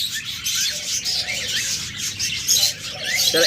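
Caged lovebirds and cockatiels chirp in a busy bird market, a dense run of close, high tweets and squawks going on throughout.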